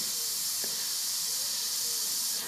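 A steady, close hiss of an airbrush spraying, continuous throughout with a faint click early on.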